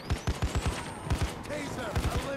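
Sniper gunfire in Payday 2 VR: a string of sharp, punchy shots in quick succession, a regular burst of about eight, then a pause and a few more, close and loud over low background game noise.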